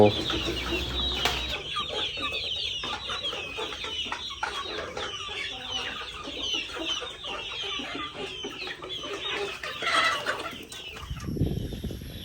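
Chickens on a farm cluck and chatter close by for about twelve seconds, with overlapping calls from several birds.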